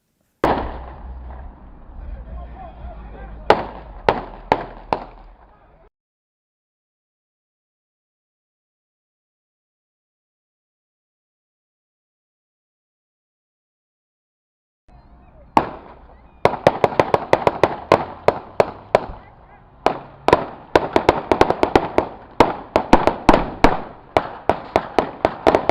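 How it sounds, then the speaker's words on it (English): Gunfire in a real shootout, with sharp bangs in bursts. A quick volley comes early, then after a long silence a dense run of shots rings out, some loud and close, others overlapping in rapid succession. "This same subject is the first to shoot, which instigates a major gunfight."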